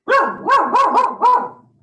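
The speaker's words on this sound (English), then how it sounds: "That's my puppy." A puppy barks five times in quick succession, close and loud, each yap short and high with a slightly uneven rhythm before a quick fade.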